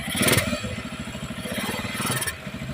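A freshly repaired motorcycle engine, its welded gearshift fixed, idles with a steady low chugging pulse, close and fairly loud, with some metallic clatter and brief higher bursts of rattle.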